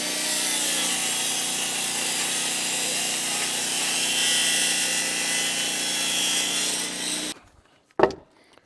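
A power saw rips lengthwise through a wooden board for a shed top plate, a loud, steady whine and rasp running for about seven seconds, then cutting off, followed by a brief knock.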